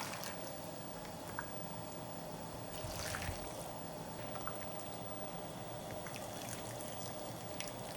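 Oxtail soup poured into an earthenware pot, heard as a soft, steady trickle and splash of liquid running for several seconds, close and fairly quiet.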